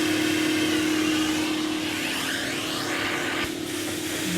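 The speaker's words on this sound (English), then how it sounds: "here you can see easily extracting your stain or whatever once you put down your stain removers" Professional hand-tool carpet extractor sucking a coffee stain out of carpet, a loud steady vacuum roar with a constant motor whine and hissing suction, up close and uninterrupted.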